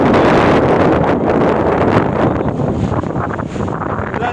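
Strong wind buffets a microphone outdoors, a loud, continuous roaring rumble that barely lets up across the few seconds, with no voices.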